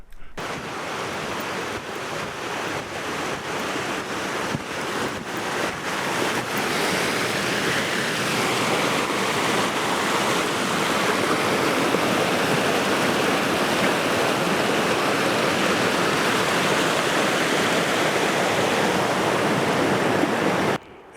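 Waterfalls near a patrol cabin by Waterfalls Campground on Jasper's South Boundary Trail pour out a steady, full rushing roar that builds slightly and then holds close and loud, with no talking.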